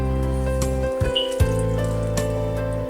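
A small splash of water is poured into cauliflower 65 batter already mixed with squeezed lemon juice, making a brief close trickle over a steady tonal background.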